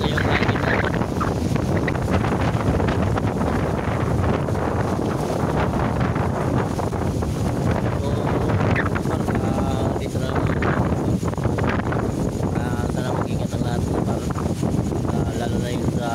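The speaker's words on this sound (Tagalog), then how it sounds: "So medyo lumakas na talaga yung hangin natin." Strong wind buffets the microphone at sea during an earthquake with a tsunami warning, a steady loud roar filling the whole stretch with no breaks.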